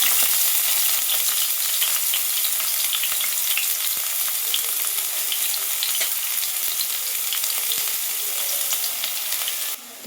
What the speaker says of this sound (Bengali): তেলটা গরম হয়ে গেছে, এর মধ্যে দিয়ে দেব পেঁয়াজ কুচি